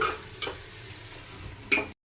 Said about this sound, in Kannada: ಇದನ್ನು ಈಗ ಚೆನ್ನಾಗಿ ಫ್ರೈ ಮಾಡ್ಕೊಬೇಕು